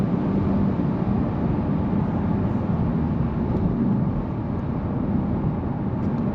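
A Honda Civic Type R FL5 with a manual gearbox under hard acceleration, its engine a steady, loud broadband roar with strong low-end drone that holds constant from start to finish, heard from inside the cabin.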